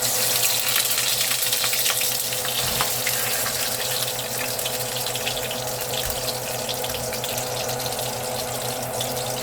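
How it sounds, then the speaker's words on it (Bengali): Potatoes frying in oil already used for frying onions, a dense continuous hiss and sizzle at steady loudness, close and without talk. "এবার আমি পেঁয়াজ ভাজা তেলে আলুগুলো দিয়ে দেবো"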